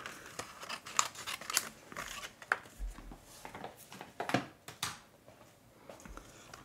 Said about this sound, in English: I'm going to just trim off the excess here because I got a really good scrap here.